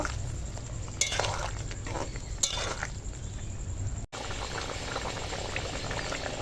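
Cashew and poppy seed paste is mixed into a bubbling curry with potato, paneer and makhana, a continuous simmering boil with soft stirring and a few wet scraping bursts, close by and without speech.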